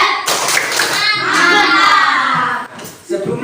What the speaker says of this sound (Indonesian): Kita kasih tepuk hebat dulu.